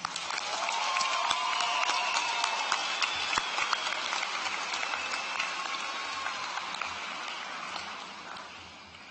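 A large audience applauds at the Shadle Park High School 2018 graduation ceremony, a sustained wash of clapping with sharp individual claps popping out, holding steady before tapering off near the end.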